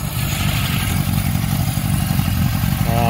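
A 1976 Honda CB750K motorcycle engine, a barn find whose carburetors were cleaned after about 20 years of storage, runs steadily and close up with a low rumbling idle and light mechanical clatter, and no talking.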